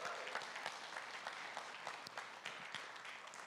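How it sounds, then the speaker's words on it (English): An audience at a business pitch event claps steadily throughout, a quiet, distant wash of many hands with no talk over it. "Let's make a big round of applause for them."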